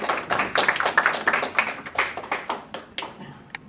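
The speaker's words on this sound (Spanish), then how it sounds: "Aplausos para el doctor Domingo González." An audience at an international conference on inclusive innovation applauds a speaker, giving several seconds of steady clapping from a modest crowd that thins out toward the end.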